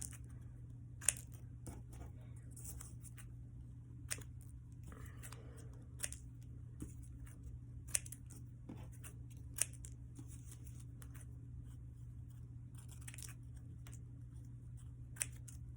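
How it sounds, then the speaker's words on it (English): Scissors snip paper pieces for a collage, a few sharp isolated cuts spaced a second or two apart over a steady low background hum, close and fairly quiet. "it's a little bit too big, so I'm going to cut them a little bit more"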